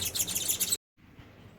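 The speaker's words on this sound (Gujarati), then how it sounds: "અહીંયા ચકલીઓનો અવાજ સંભળાઈ રહ્યો છે ને" Sparrows nesting somewhere near a home chirp in a dense, high, busy chatter that stops abruptly, leaving only faint background noise after a brief silence.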